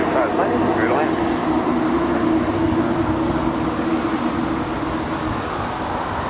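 Airliner landing at LAX at night, a steady broad jet engine roar that holds loud and constant throughout, with faint voices mixed in underneath.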